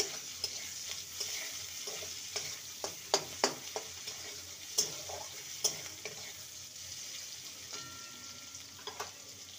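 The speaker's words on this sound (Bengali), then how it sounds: "পেঁয়াজটাকে হালকা ভেজে নেব" Chopped medium onion fries lightly in a pan with a steady soft sizzle, while a utensil stirs and scrapes in scattered, uneven clicks; no voices.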